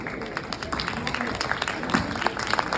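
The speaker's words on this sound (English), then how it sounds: "Can we give Candace a round of applause for sharing the story, guys?" Scattered audience clapping at a ghost-hunting conference in Oregon, a steady patter of hands at moderate distance with voices mixed into the crowd noise.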